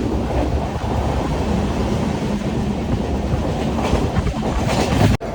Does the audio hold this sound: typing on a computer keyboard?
no